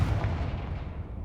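A fiery Confringo spell from Hogwarts Legacy bursts with a single deep, booming blast that rumbles and fades over about a second.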